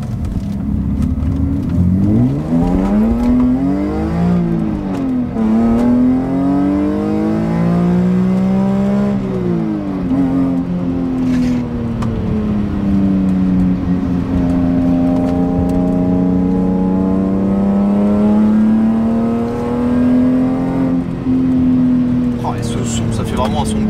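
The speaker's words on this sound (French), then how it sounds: "Ça fait vraiment un son de course quand même. Là c'est juste 5000 hein." A BMW M3 E46 Touring's straight-six is revved repeatedly to around 5000 rpm, close and loud, pitch rising and falling in several sweeps before a longer sustained hold, with someone talking over it.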